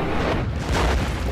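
A loud, rumbling explosion in the video game Shadow of Mordor, a dense sustained blast with no voices over it.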